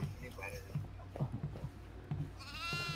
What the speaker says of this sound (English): There's a goat down here.